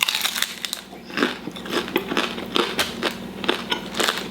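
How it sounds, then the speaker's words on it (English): Crunchy Jack in the Box fast-food tacos being bitten and chewed up close, a steady run of crisp shell crackles and crunches in irregular bursts, loud and close with no talking. "you guys are gonna get a good little crunch out of this."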